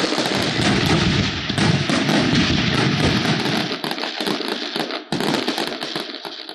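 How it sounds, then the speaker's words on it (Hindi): New Year fireworks in a Pakistani city pop and crackle densely and loudly in rapid overlapping bursts, with a brief lull near the end before the barrage resumes. "शहर शहर आतिशबाजी का शानदार मुजाहरा"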